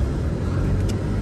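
Steady, loud rumble of a car driving on the road, heard from inside the vehicle as one unbroken stretch with no talking.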